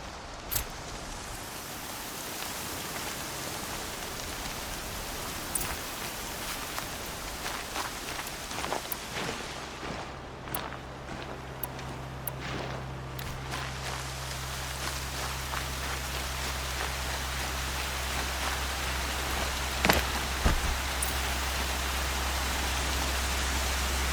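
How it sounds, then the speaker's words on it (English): Heavy rain falling in the Horizon Zero Dawn video game, a steady dense hiss throughout with a low constant rumble underneath and occasional sharper drops or ticks standing out. "Raining like it's trying to wash everything away."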